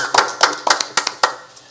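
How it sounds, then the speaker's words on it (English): A handful of sharp, close individual hand claps from a small audience at a special town board meeting, spaced unevenly and fairly loud. "Can we applaud for a minute?"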